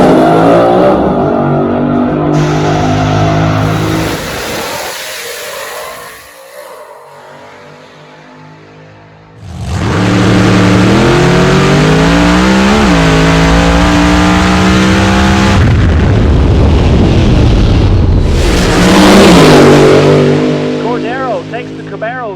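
1971 Mach 1 Mustang and Z28 Camaro drag cars roaring down the track at Eddyville Raceway Park, loud engines revving and accelerating through gear changes, a brief quieter gap, then another blast of engine noise, with an announcer talking over it.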